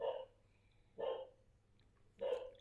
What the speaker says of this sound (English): That's my dog out there.